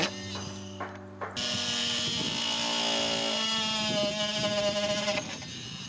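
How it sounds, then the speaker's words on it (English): Oscillating multi-tool buzzing as it knocks out notches cut in wooden ladder rungs, a steady high-pitched vibrating whine after a brief start, close and fairly loud. "then I knocked those pieces out with my oscillating tool."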